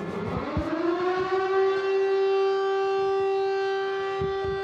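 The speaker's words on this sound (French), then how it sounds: "Cette sirène, comme un cri d'indignation." A civil defense siren wails at a memorial tribute following a terrorist attack in Arras, rising at first and then holding a loud, steady tone that fills the air outdoors.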